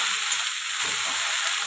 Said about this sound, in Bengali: বাঁধাকপি অ্যাড করলাম